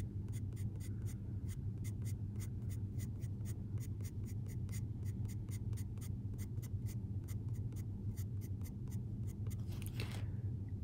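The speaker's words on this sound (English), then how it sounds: "But I'm just gonna gradually add these hatch marks." Pencil hatch marks stroked onto paper, with a rapid, steady series of short scratchy strokes repeating close up for several seconds over a low background hum.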